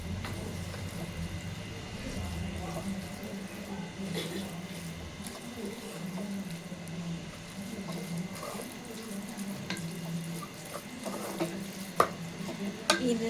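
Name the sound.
stirring mutton brain masala with dill leaves in pan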